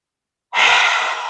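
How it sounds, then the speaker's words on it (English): A forceful yoga lion's breath exhale with mouth wide open, one loud, close, breathy rush of air that starts abruptly after silence and fades slightly as it trails off. "let's do lion's breath. So you're gonna open the eyes wide, open the mouth wide, and exhale all the breath"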